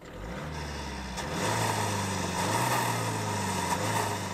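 Kia Ceed 1.6 litre CRDi turbodiesel with mild-hybrid system idling up close, a steady low diesel rumble with a brief rise in revs partway through.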